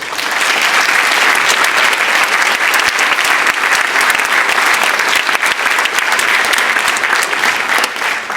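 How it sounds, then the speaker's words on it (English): A crowd applauds a high school chamber orchestra, steady and loud clapping filling the hall without a break from start to finish. "Give them a round of applause."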